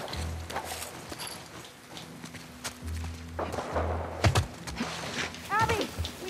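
Horse hooves clopping in The Last of Us Part II, an uneven run of thuds and steps over game ambience and music, with vocal sounds rising toward the end.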